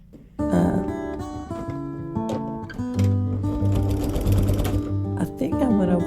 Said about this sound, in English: we are getting ready to do the stitch down on the front